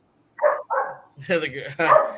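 A dog barks and yelps in several short, fairly loud bursts with brief gaps, sounding close and agitated, and a voice-like quality runs through the calls.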